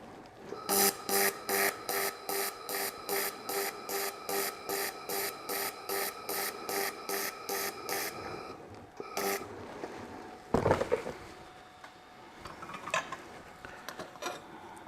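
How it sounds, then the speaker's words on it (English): An Xlaserlab X1 Pro laser welder on its pulse setting fires a steady series of about twenty evenly spaced short buzzing pulses, close and fairly quiet, then stops, followed by a few scattered clicks and clanks. "We're going to weld half of this on the pulse setting and half of it on continuous."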